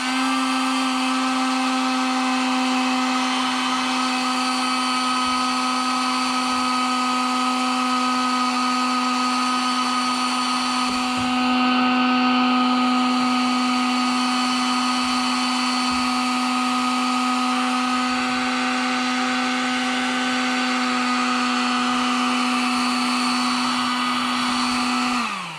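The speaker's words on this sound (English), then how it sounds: "hit it with a heat gun" A heat gun heating heat shrink on an amplifier power wire runs as a steady, loud motorized whine with a constant blowing hiss, unbroken for the whole span and spinning down at the very end.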